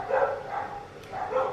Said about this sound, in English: I live in the suburbs with a whole lot of dogs that don't stop barking